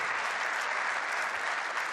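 The crowd at the 2016 ITTF World Tour Polish Open applauds before the Ovtcharov versus Mizutani table tennis match, a steady, full burst of clapping filling the hall at an even level.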